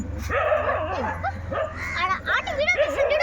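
Several street dogs bark and yelp in quick, overlapping bursts, close by and loud, with whimpering yips mixed in.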